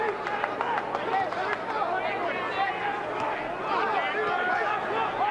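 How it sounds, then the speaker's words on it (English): A boxing crowd in an arena at the Gołota vs Hayden fight, a steady roar of cheering and chatter throughout, with a commentator's voice over it. "And the crowd now getting behind the underdog, Hayden."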